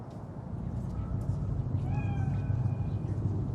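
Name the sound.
cat meowing, from the video game Cyberpunk 2077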